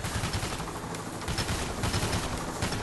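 Rapid, dense pistol gunfire in the video game Payday: The Heist, sharp overlapping shots in a continuous loud barrage with no talking.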